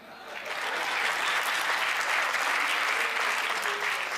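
Crowd at a Hindi comic poetry gathering breaking into applause, a thick, steady wash of many hands clapping that swells quickly and holds at full strength throughout, with faint voices underneath.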